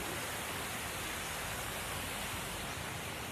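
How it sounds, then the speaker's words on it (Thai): Small waterfall inside a cafe, a steady broadband rush of falling water that stays loud and continuous throughout with no talking. "นี่จ้ะน้ำตกน้อย"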